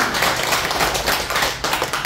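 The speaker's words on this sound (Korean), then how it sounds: "다시 한번 박수 부탁드리겠습니다" Steady applause from an audience at a Buddhist dharma service, a dense continuous patter of many hands clapping without a pause.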